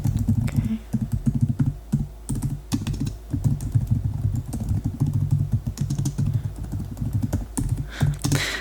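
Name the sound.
typing on a computer keyboard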